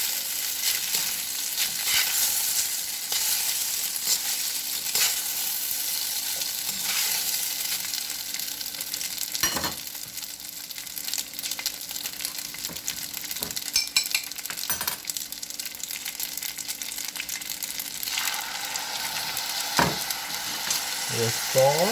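Chow mein noodles with chicken stir-frying in a hot pan, a steady loud sizzle broken by occasional clinks and scrapes as they are tossed.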